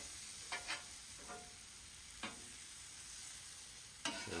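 Shrimp frying on a Traeger Flatrock griddle give off a faint, steady sizzle, broken by a few short scrapes and clicks as the spatula moves them around.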